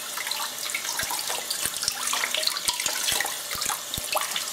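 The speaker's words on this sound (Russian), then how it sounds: "И просто я их сейчас под тепленькой водичкой, такой прохладной." Orchid plants rinsed under running tap water at a sink, a continuous splashing stream broken by irregular knocks and taps, close and fairly loud with no voices.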